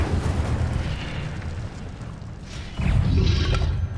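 The Incendio fire spell in Hogwarts Legacy erupts in a loud, rumbling burst of flame with heavy low booms. The blast swells again partway through as another burst of fire rolls out.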